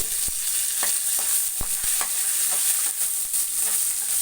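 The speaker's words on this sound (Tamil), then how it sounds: "நல்லா வதக்கி விட்டுக்குங்க." Onion, green chilies and curry leaves sauté in hot oil in a pan with a constant hiss, while a spatula stirs in soft, irregular scrapes and taps close by.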